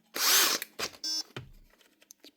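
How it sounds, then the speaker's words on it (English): A big, heavy hammer drill with a massive gearbox runs at its highest speed and torque setting in loud, close bursts of whirring, with short stops and mechanical clatter between them. "Big heavy drill, this thing actually."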